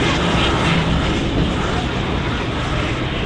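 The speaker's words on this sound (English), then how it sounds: "Qatar Airways 787 Dreamliner" Qatar Airways Boeing 787 Dreamliner airliner at Manchester Airport, its engines a steady, loud broadband roar that holds evenly throughout without pause.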